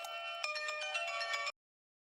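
A phone rings with a melodic ringtone for an incoming call, loud and continuous, then cuts off abruptly, leaving silence.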